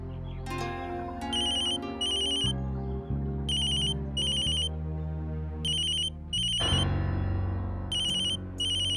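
Phone ringtone playing a repeating electronic melody with bright, evenly spaced beeping bursts over a sustained tone, steady and clear for several seconds with no talking.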